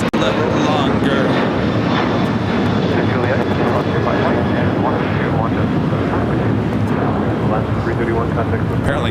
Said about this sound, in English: We have another A380 arrival on the north side